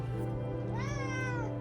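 A house cat lets out a single rising-and-falling meow, faint and in the background, over a steady low hum during a card reading.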